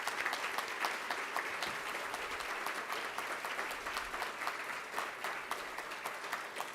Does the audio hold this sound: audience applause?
yes